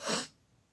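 A single sharp, close sneeze bursts out at the start and quickly fades into quiet room noise.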